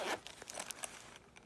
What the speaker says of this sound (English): Comes in the zipper pouch.